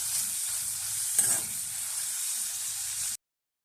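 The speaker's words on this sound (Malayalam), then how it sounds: "സവാള ചേർത്ത് കൊടുത്ത് നന്നായിട്ടൊന്ന് ഇളക്കിയെടുക്കുക വഴക്കിയെടുക്കാം" Thinly sliced onion stirred and fried in a pan, a constant bright sizzle with a brief spatula scrape near the middle, close and steady before cutting off abruptly, no voices.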